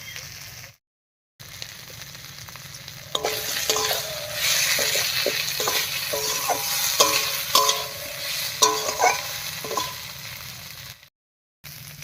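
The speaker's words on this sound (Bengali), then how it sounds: "এবার এর মধ্যে দেবো তিন চারটে মতো চেরা কাঁচা লঙ্কা" Spices and three or four slit green chilies stir-fried in a pan for a vegetarian sweet pumpkin and moong dal dish, a hissing sizzle with quick spatula scrapes and clicks, close, between brief silent gaps, no talking.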